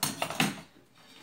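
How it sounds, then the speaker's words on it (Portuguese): Castanhas (cashew nuts) cracked by hand in a home kitchen on Christmas, giving a few sharp clacking knocks in quick succession, close by, then a quieter pause before one more knock. "Essa zoada é a Elisângela quebrando castanha"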